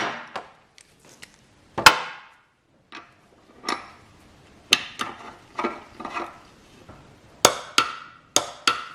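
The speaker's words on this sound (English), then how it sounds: "So now I'm just going to torque this up." A new sump bung with a new washer is torqued up on an Audi R8 with a rebuilt engine: a series of sharp, close metallic clicks and ticks in irregular bursts, separated by short silences.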